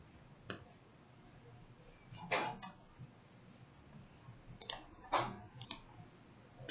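Typing on a computer keyboard, quiet clusters of quick key clicks separated by short pauses, close and soft with no talking.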